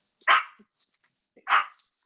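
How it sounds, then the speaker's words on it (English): A dog barks indoors, two sharp close barks about a second apart with a small yip between them and quiet in the gaps. "Sorry about the dog."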